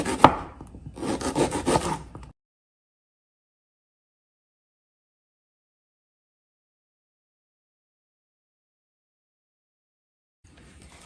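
A few quick knife chops knock against a cutting board near the start as vegetables are cut into half-moons, then the sound drops into silence.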